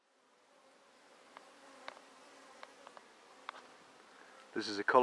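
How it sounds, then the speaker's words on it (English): Honeybee colony at a top bar hive in early July: a faint, steady buzzing hum with a few louder individual bees passing close, ending in a brief louder rustle. "This is a colony in a top bar hive, early July 2013."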